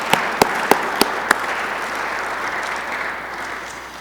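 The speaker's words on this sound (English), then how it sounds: "we need to have a round of applause" A full audience bursts into sustained applause at a University of Maryland investiture award ceremony, with a few sharp close claps near the start. The dense, steady clapping slowly thins over four seconds and no one speaks.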